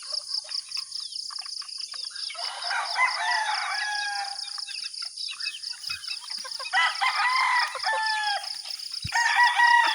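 Backyard chickens in a newly built barn cluck and call repeatedly at close range, with overlapping bursts over a steady high insect-like hum.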